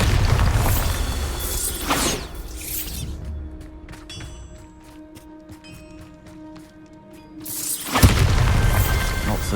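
A Bombarda blasting spell goes off in Hogwarts Legacy: a loud booming burst, then a quieter stretch of ringing, clattering mechanical debris before another heavy blast closes it out.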